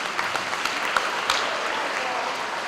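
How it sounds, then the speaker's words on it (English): A crowd claps warmly for the Struble Blue Jays students at an elementary school ribbon-cutting ceremony, steady dense applause throughout with a few sharper individual claps standing out. "Let's welcome all of our Struble Blue Jays with a big round of applause."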